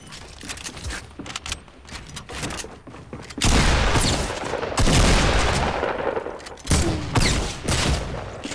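Pump shotgun fire in the video game Fortnite, a legendary pump shotgun: several loud booming blasts with a sharp crack at about three and a half, five and seven seconds, over busy game noise and a steady din.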